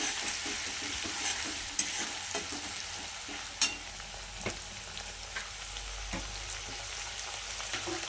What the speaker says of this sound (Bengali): দেখুন ভালো করে আমি নেড়ে চেড়ে